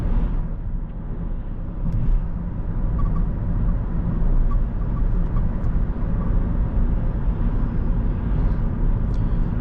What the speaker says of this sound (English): We do hear a little bit of the outside traffic, some minor road noise